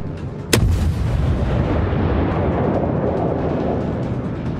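Warship guns fire in World of Warships: one loud, close boom bursts out, then a long heavy rumble rolls on with no voices.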